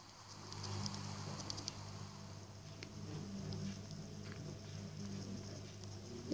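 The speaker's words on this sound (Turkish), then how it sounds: "yağmur da yağıyor" Soft, steady patter of rain in Minecraft with faint scattered ticks over a low hum, heard alone and fairly quiet.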